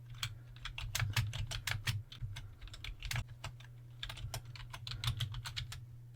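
Keys clatter on a computer keyboard as a terminal command is typed, a quick, uneven run of close, crisp clicks with a brief pause midway and no talking.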